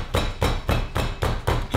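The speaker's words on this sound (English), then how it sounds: "just with a steak hammer" A steak hammer pounds a decent-sized piece of raw steak in a kitchen, six or seven evenly spaced heavy thuds in a steady rhythm, close and fairly loud with no talking.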